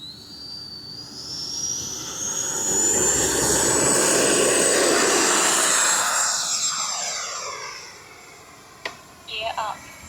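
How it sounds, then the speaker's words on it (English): An FMS F-86 80mm RC model jet with a KM Models afterburner takes off, its turbine whine swelling into a loud roar as it passes close, then fading into the distance, followed by a few brief knocks near the end. "All right, we're going to take off from down there."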